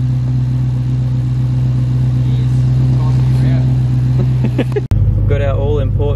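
A 530 hp supercharged Ford Falcon XR8 engine drones steadily at low pitch while driving on a mountain road, loud and continuous, ending in a sudden cut to a closer, heavier rumble.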